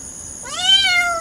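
A cat meowing out in the cold weather, one clear drawn-out meow rising then falling, close and fairly loud over quiet background.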